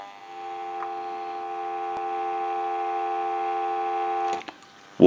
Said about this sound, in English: So we'll give you some dial tone.